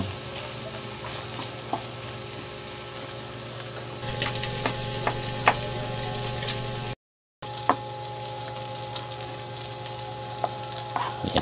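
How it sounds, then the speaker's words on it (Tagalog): Food fries in oil in a pan while cooking laing, with a continuous dense sizzle and crackle, close and steady, a few sharper pops scattered throughout and no talking. "Yan, pagmamantikain lang natin."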